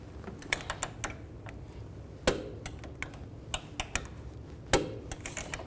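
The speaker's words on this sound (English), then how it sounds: "Now I'm going to torque that bolt to 70 foot-pounds" A torque wrench tightens a rear shock bolt to 70 foot-pounds on a GMC Yukon, giving a quick series of faint ratcheting clicks with two sharper, louder snaps among them.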